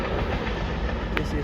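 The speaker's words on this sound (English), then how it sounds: "Train." A train passing near a nature trail by a creek, a dense loud rumbling rush that holds steady throughout, with a brief higher squeal near the end.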